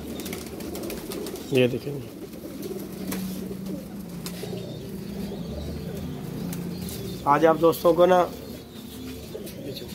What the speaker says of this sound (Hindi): वीआईपी कबूतर बॉस जी के दिखा रहा हूँ, जो कि मेरे ख्याल से बॉस जी ने कभी नहीं दिखाए कबूतर लाल आंखों के